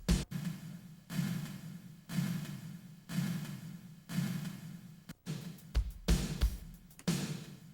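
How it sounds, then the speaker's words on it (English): Drum machine beat soaked in a larger room reverb, heard alone: evenly spaced hits about once a second with long washy tails that blur into each other, then a quicker cluster of hits near the end, with no voices. "On top of that, we can stack a larger room sound."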